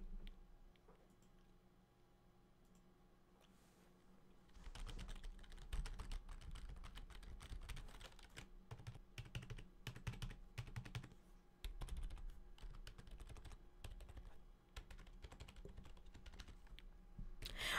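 Fingers typing on a Corsair K55 RGB membrane keyboard, soft tacky clicks in quick irregular bursts close up, starting sparse and quiet before a denser run of keystrokes with brief pauses.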